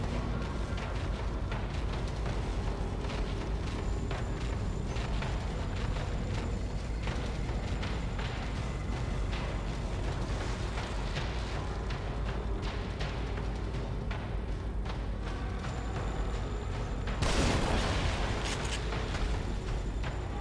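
Grenade blasts from The Evil Within video game: a deep rumbling burst erupts near the end after a stretch of low mechanical game ambience, loud and close, with no talk.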